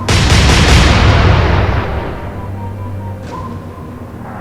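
A naval gun salvo in the Atlantic Fleet naval warfare game, Royal Navy against Kriegsmarine: one loud, heavy boom that rolls and decays slowly over several seconds, with a faint low rumble trailing off.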